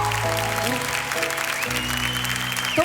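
Applause from a church congregation at a revival event, a steady clapping wash over sustained keyboard-like musical tones that shift pitch, ending with a brief louder burst.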